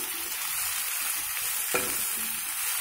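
Leafy greens frying in a pan for raw mango dal, a steady soft sizzle throughout with a brief scrape of stirring midway, close and continuous with no talking.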